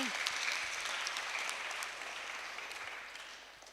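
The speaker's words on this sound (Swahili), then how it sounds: "Tumpigie makofi." A church congregation at a Kikuyu Sunday service clapping together, a steady wash of many hands that stays fairly loud and slowly fades over a few seconds, with faint voices underneath.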